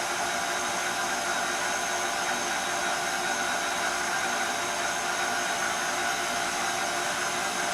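A KitchenAid stand mixer drives its pasta roller attachment as dough passes through at the widest setting, giving a steady, loud motor whir without pause and with no voice over it.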